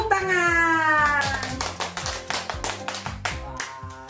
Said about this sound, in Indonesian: Tante mau kita tepuk tangan.